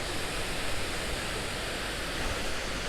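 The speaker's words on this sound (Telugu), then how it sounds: "వాటర్ బాగా ఫ్లో అవుతున్నాయి" A hidden waterfall in Telangana with water flowing strongly, heard as a dense, steady roar of rushing water that fills the whole stretch evenly, close and loud, with no voices.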